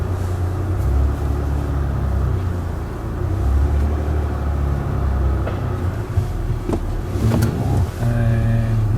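A car engine hums and gently rises in pitch as power is fed in slowly to roll the car up a hill, a steady close drone throughout with only faint background sounds.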